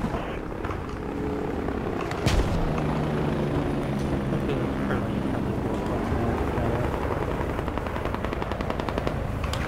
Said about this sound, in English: One heli's flying around and one heli's hovering just above them.